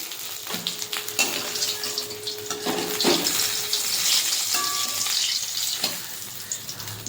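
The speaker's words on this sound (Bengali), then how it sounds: "বাকি মাছগুলো আমি এরকম করে ভেজে নেব" Tilapia fish frying in hot oil, a loud steady crackling sizzle close by with intermittent spatters and brief clanks of a utensil, no talking.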